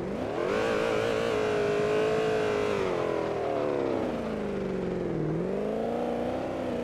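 A car drifts in a loop around a garbage can, its engine holding a steady revving drone that rises and dips in pitch as the throttle is worked through the slide.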